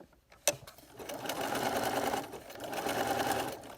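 A sewing machine with an open toe embroidery foot stitches a coiled rope bowl, its steady motor whir running almost continuously after a sharp click, with a short dip in the middle.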